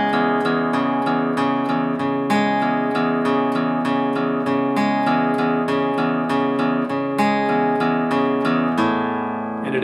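Fingerpicked acoustic guitar plays a song's pattern, steady repeated plucked notes over ringing open strings, close and alone throughout with no voice.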